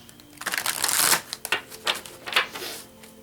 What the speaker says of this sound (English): Just going to pull 3 cards from the Enchanted Map.